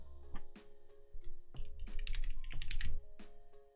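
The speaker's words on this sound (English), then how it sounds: "I'm gonna type something into chat." Typing on a custom mechanical keyboard fitted with Clackeys Phyrexia keycaps, a close, steady run of clacky keystrokes with uneven rhythm, some quick bursts, over faint background hum and no talk.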